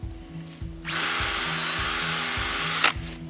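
A power drill whines steadily for about two seconds, close and loud, drilling holes into a log, then stops abruptly; faint rhythmic knocking sounds before and throughout.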